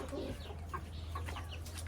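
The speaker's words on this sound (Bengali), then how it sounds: "আমার মুরগি দেশি মুরগি" Several native (desi) chickens on a rooftop cluck in short, scattered bursts over a steady low hum, with no one talking.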